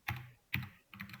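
Three quiet, crisp key presses on a computer keyboard, evenly spaced a fraction of a second apart, close and isolated.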